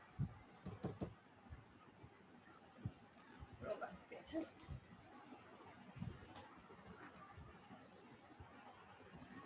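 Irregular clusters of keystrokes on a computer keyboard, with quiet, close clicks and brief pauses between bursts, against a soft background and a faint voice in places.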